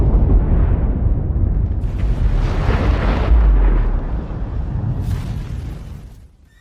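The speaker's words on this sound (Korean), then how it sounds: "히로시마 상공 570m에서 인류 최초 실전 투입 원자폭탄이 폭발하는 일이" The Little Boy atomic bomb exploding 570 m above Hiroshima, rendered as a loud, sustained roaring blast with a heavy rumbling low end that surges, rolls on for several seconds and then slowly fades away.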